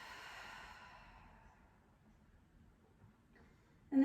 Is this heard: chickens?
no